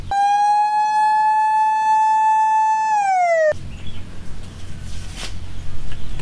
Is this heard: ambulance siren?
yes